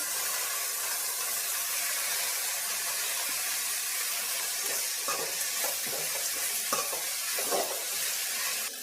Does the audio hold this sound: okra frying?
yes